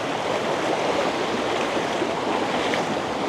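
River water flows in a steady, loud, continuous rush with no breaks, a broad wash of turbulent current close by in a rural Dominican Republic setting.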